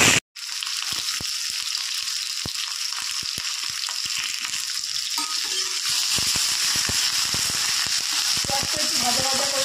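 Onions frying in hot oil in a kadai, the start of a spice base for steamed Bombay duck fish; a steady, close, continuous sizzle with faint clinks of stirring running throughout.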